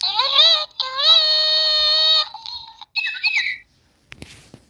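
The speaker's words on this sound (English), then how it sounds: "I've got a talking bird" A talking pet bird with a broken wing, a small yellow bird, gives loud, shrill, whistling squawks and chirps in a few close bursts, ending in near silence.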